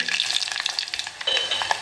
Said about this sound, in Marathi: तेल तापलेलं आहे आता आपण प्रथम लसूण टाकणार आहे तेलामध्ये